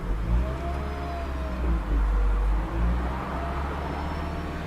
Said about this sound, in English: It's more like kind of a continuous hum, as you'll now hear when I press the accelerator.